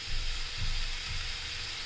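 Potatoes frying and browning in a pan, a steady close hiss and crackle of sizzling oil with soft low stirring bumps, continuous and fairly loud with no voice.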